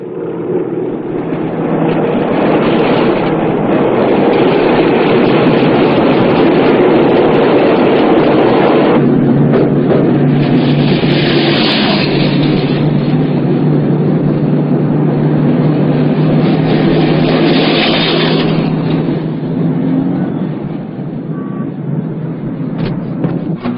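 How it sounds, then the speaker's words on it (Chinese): An aircraft lands at Berlin in a 1985 Soviet film scene, its engines a loud, steady droning roar throughout that swells and eases slightly toward the end, with no voices over it. "现在着陆，飞机要加油。"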